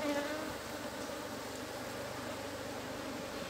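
A dense, steady buzz of many honey bees hums close by, continuous and unbroken, with no voices.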